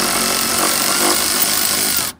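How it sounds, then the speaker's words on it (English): An air impact gun loosens a fuel line fitting on a K-series engine with one continuous, loud, close rattling buzz for about two seconds that cuts off abruptly. "So crack it first, Maddie, and then use the gun."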